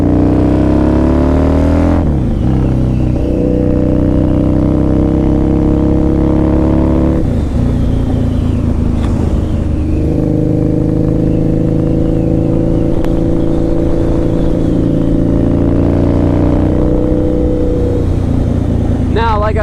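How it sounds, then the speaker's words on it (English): A 2003 Harley-Davidson V-Rod with its Porsche-designed engine roars along, loud and close, its engine note rising through gears with brief drops between shifts, the drone continuous for the whole ride. "the V-Rod actually has a motor that was designed by Porsche"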